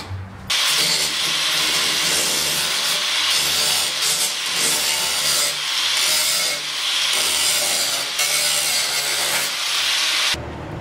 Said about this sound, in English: I just finished grinding down the centerpiece and I made it all flat and everything